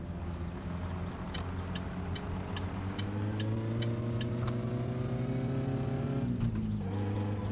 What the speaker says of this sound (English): There's the clutch slipping again.